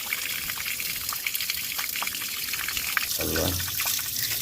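A tiny waterfall at Konajekallu near Moodbidri in Dakshina Kannada, Karnataka, gives a steady, close trickle and splash of running water, with a short spoken remark over it.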